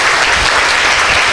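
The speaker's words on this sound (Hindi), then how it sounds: "चलिए, बिहार का वर्तमान शिक्षा व्यवस्था पे एक बार आप लोग ताली बजाइए।" Students clap together in a classroom in Bihar, a short, loud, dense burst of applause from many hands with no talking over it.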